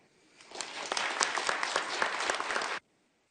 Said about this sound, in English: please join me in a round of applause for everybody standing up here